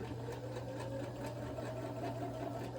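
A sewing machine back stitching and then stitching forward along the hem of a fabric dog kerchief, giving a steady, continuous mechanical whir at close range with no talking.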